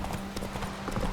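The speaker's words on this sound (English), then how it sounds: "Whoa there, Roach." Horse hooves clip-clop steadily in The Witcher 3 video game, a quick rhythmic trot of muffled thuds under a dense background of game ambience and faint voices.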